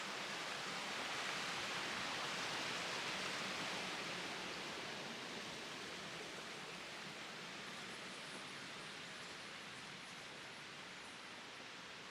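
A mountain stream on a hike up Spain's highest peak rushes steadily and close by, a dense broadband wash of flowing water that holds constant throughout with no voices.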